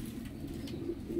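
Soft, low cooing of pigeons, faint and close, repeating gently against quiet background noise.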